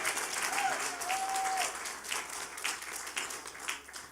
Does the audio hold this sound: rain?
no